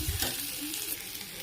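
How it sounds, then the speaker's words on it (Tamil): Chopped onion and carrot sautéing in a pan for potato masala, a steady close sizzle with soft stirring scrapes throughout, no voices. "பாருங்கள், ஓரளவு வதங்கிருச்சு வெங்காயம்."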